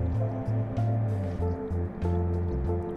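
Besan gatte curry in a pot comes to a boil over a high gas flame, with loud, continuous bubbling and gurgling pulsing in short surges, close up and without speech.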